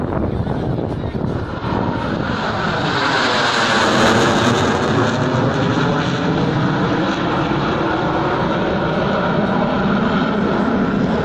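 Loud, continuous roar of a MiG-21 jet fighter climbing vertically during an air show at Focșani airfield, a steady broadband engine blast with a sweeping tone that shifts as the aircraft passes, with faint voices beneath.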